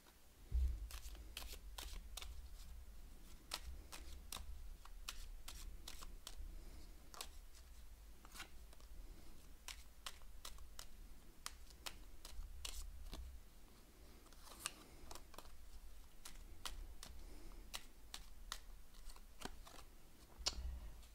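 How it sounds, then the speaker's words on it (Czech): Playing cards being handled and drawn from a gilded deck during a card reading, with a steady run of sharp, close clicks and flicks repeating throughout and no voice over them. "Chodíme k tomu vytáhnout kartičku ze zlatého kartopádu."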